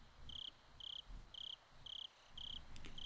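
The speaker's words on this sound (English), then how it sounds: "The crickets are, I don't know, just making sounds." Crickets chirping at night in the video game Higurashi Outbreak, a steady rhythm of short, bright pulsed trills repeating about twice a second over a low ambient hum.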